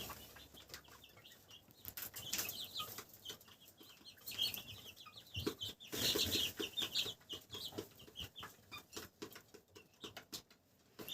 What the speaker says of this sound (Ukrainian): Квочка ось тут сидить, а курчатка там.